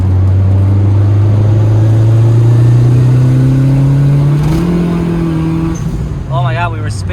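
A turbocharged B20-engined Honda EG hatchback accelerates hard in fourth gear with wheelspin, its engine droning loud and steady with rising pitch before easing off near the end, while people talk inside the car.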